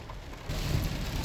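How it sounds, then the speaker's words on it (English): Rain pours on a car driving to work, a steady wash of drops on the body and glass that swells louder halfway through over a low road rumble. "Driving to work in the rain."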